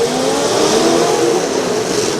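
Demolition derby cars at an outdoor county fair derby rev their engines in a continuous dense roar, loud and close, with no break across the stretch.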